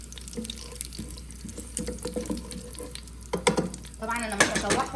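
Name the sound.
onion and garlic sautéing in butter and oil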